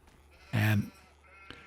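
A single short sheep bleat sounds in a farming video game, loud and close, with quiet background sounds before and after.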